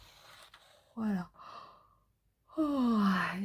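A single drawn-out yawn comes through close and fairly loud, with a breathy rise then a falling voiced groan, a short pause, and a second long, loud yawning exhale that falls in pitch.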